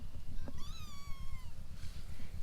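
Small kittens give a few high, thin meows close by over a steady low rumble.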